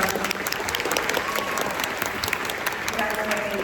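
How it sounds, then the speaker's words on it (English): An audience at a tour stage show gives a brief burst of loud, dense applause, many hands clapping together with a few whoops rising above. "One more round of applause for"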